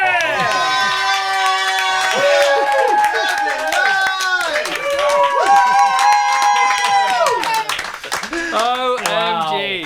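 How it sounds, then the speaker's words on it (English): A studio audience claps and cheers along with the house band in a radio studio, loud and sustained under the music with voices calling out. "Nice clapping."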